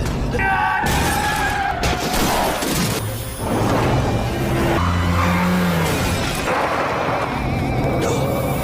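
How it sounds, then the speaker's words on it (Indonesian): A movie car chase ends with a car dragged off a height. Loud, continuous action sound carries tire squeals and skids, crashes and shattering impacts, and booming engine roar layered over a dense, busy mix. "Aksi kejar-kejaran yang sangat beradrenalin pun terjadi, yang mana pada akhirnya Ben berhasil menyeret mobil mereka agar terjun dari ketinggian."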